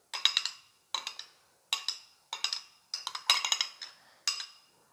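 A spoon mixes chicken pineapple salad with mayonnaise in a bowl, making about eight rhythmic bursts of clinks and scrapes with short quiet gaps between them.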